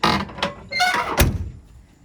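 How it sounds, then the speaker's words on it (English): A Buick GSX's door slams shut with a loud thunk near 1.2 s, preceded by a latch click and metallic creaks as it swings, close up in a quiet garage with no talk. "Other than the door making a lot of noise, it closes real well."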